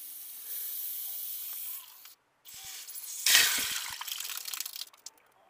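Pressurised air and coolant escaping from a car engine's cooling system, heard as intermittent hissing bursts, one sharper spray midway, close and fairly faint with pauses of silence.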